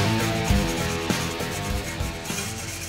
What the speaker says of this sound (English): we're going to take this dedicated stainless steel brush and we're going to clean up the welds and we're going to clean up the joints